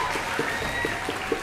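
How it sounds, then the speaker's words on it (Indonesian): Short burst of audience applause at a Nuzulul Qur'an commemoration gathering, a steady wash of clapping with a faint murmur of voices underneath. "Tepuk tangan juga buat ibu-ibu Korlas kita."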